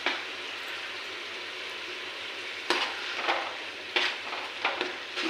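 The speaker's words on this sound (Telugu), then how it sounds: "ఇప్పుడు ఇది బాగా ఎర్రగా వేయించేసుకుందాము." Onion paste fried with salt and turmeric in a pan sizzles steadily, with a few louder scraping stirs breaking through the continuous frying hiss.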